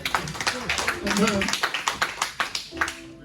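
A church congregation applauds during a sermon, irregular bursts of clapping in a fairly quick rhythm, close and lively, with voices calling out over the claps.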